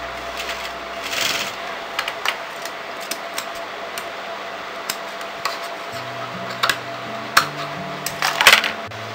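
A sewing machine stitches piping on a front-opening kurti, with scattered ticks and clicks from the mechanism and a low motor hum that starts partway through; no one speaks.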